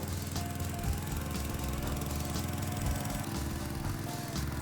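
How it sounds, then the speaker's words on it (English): Small 14 horsepower Power King garden tractor engine runs steadily under load, pulling a homemade hog hut on skids across a pasture, a constant near drone with a faint rhythmic knock. "Pulling it with my little 14 horsepower Power King tractor."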